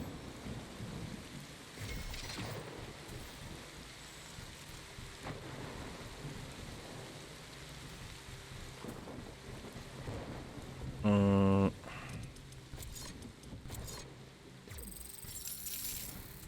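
Rain and thunderstorm in the video game The Riftbreaker, a steady rain hiss with low thunder rumbles, moderate and continuous, broken by a brief loud game tone.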